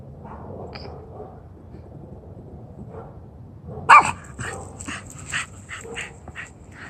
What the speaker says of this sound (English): she bolted after somebody and just started barking